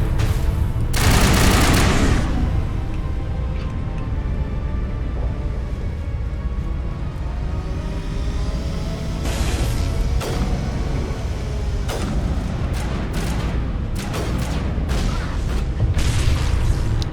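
Game gunfire from the guns in Mass Effect, a dense fusillade of booming shots and bursts filling the scene, loud and continuous with sharp blasts standing out.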